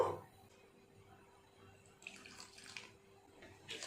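Water poured into onion paste for mutton gravy, a short soft splash and trickle heard close in a quiet kitchen.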